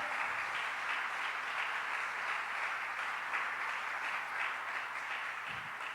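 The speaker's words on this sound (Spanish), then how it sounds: "Le da un aplauso fuerte a Él en esta hora." A church congregation breaks into loud, sustained applause, a dense wash of clapping that continues steadily for several seconds before tapering off slightly at the end.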